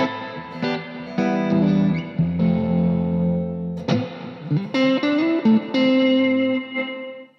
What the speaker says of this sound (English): there's AmpX Mercury reverb.